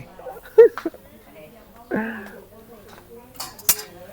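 Metal cooking pot clanks and scrapes a few times as it is handled at home, in short irregular bursts mixed with close conversation.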